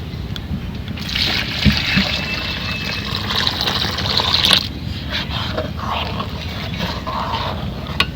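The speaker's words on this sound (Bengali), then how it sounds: "ডাল ঘুটানো হয়ে গেছে এখন আমি জল দিয়ে দেবো" Water poured into mashed boiled lentil dal, a close splashing and trickling stream that swells for a few seconds and then eases, over steady background noise.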